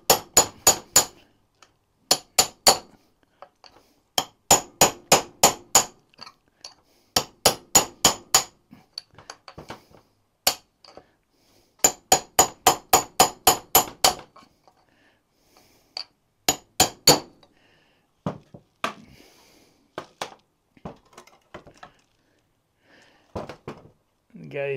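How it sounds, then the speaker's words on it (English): A hammer taps a chisel or punch against the edge of a stuck gasket on a Kohler Courage engine, giving repeated bursts of sharp metallic strikes in quick clusters of about four to eight, close and loud, with pauses between. "Grab yourself a hammer and something like a chisel or punch. Put it on the edge of the gasket. Give it a few taps on either side."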